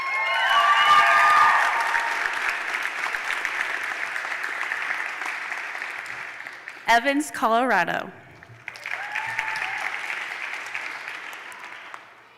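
Sustained audience applause fills a White Coat Ceremony hall for graduate speech-language pathology recipients, with a voice briefly speaking over it partway through before the even clapping resumes.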